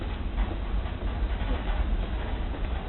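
A train idles at a station of the Winnipeg Railway Museum, its carriages shaking as it starts to leave, giving a steady low rumble that carries on throughout without speech.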